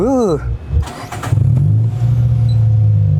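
A voice at the start gives way to a new car's engine turning over and settling into a steady, loud low idle that carries on to the end.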